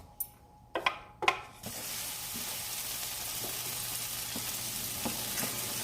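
Shrimp dropped into a hot pan hit with a few sharp clatters, then settle into a steady, loud sizzle of sautéing that runs on with faint scrapes.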